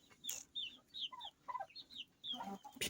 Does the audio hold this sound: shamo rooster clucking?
yes